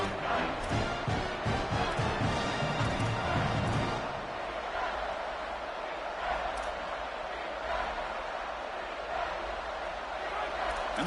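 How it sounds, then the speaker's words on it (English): Crowd noise swells in an NCAA football video game as the defense digs in near the red zone, a steady broad roar that stays loud throughout, with rhythmic stomping or chanting early on before settling into sustained cheering. "And the crowd coming to life here, trying to help this defense down in the red zone."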